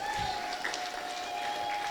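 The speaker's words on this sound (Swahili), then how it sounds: "Pigie Yesu makofi zaidi" A church congregation claps for Jesus during a lively service. The applause is dense and sustained across the moment, with a steady musical tone ringing underneath.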